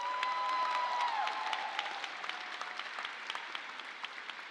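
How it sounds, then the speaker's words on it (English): Fairly faint applause from a graduation crowd honoring faculty and staff, steady dense clapping with a sustained whistle-like tone early on and scattered sharper claps as it continues. "Please join me in giving our faculty and staff a well-deserved round of applause."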